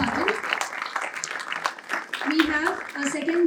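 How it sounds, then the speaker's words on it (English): Audience applause for a judge at a college talk event in Pune, a steady wash of clapping lasting several seconds with voices mixed in. "May we have a huge round of applause for our first judge"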